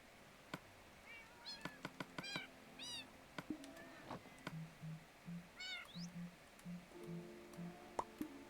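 A cat in the Minecraft video game meows several times in short rising calls, mixed with clicks and a run of soft low blips from other game sounds, all fairly faint.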